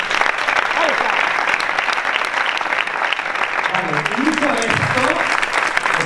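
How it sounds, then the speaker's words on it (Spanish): An audience at a running-themed event breaks into steady, sustained applause, loud and close, with a few voices calling out beneath the clapping. "Así que un fuerte aplauso, porfa."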